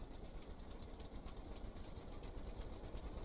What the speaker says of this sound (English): All right, so you hear the engine revving up